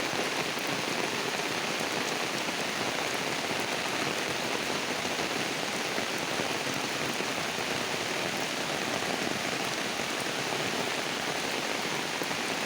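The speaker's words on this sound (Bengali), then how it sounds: "অনেক জোরে বৃষ্টি হচ্ছে।" Heavy rain falls beside a pond in a constant, dense wash of drops on water and ground, a full, even roar that never lets up, with no one speaking.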